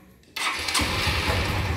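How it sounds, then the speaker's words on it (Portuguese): A motorcycle engine cranks and catches, then settles into a steady, loud running note close by, with no voices. "Simplesmente você vai ligar a moto."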